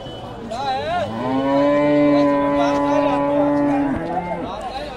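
A buffalo at a busy livestock market in Jammu gives one long, loud, sustained low moo that swells and holds for several seconds before tapering off, with faint crowd noise behind it.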